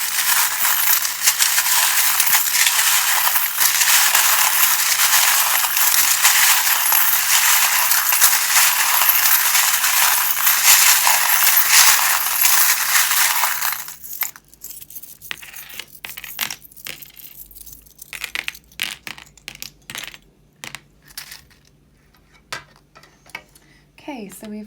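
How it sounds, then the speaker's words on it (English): Small metal charms shuffled for a tarot reading make a dense, continuous jingling rattle for about fourteen seconds, then give way to scattered, sparse clinks and taps. "if you don't like the sound of the charms being shuffled"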